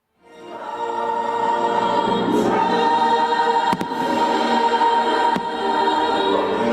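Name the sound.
fireworks over theme park castle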